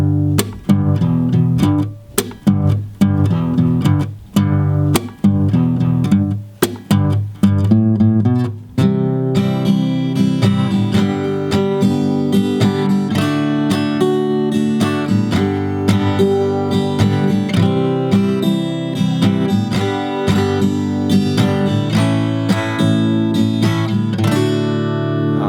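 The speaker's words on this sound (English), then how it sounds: "I'm going to play through the entire thing in a nice slow tempo," An acoustic guitar plays the bridge of a song at a slow tempo, starting with separate plucked chords and moving into steady, easy folk-chord strumming that rings on loud and close, with no talking.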